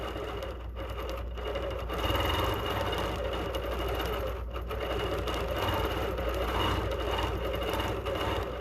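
A Bernina Q16 quilting machine stitches free-motion loops in a steady, fast, continuous mechanical whir, close and fairly loud with only brief pauses.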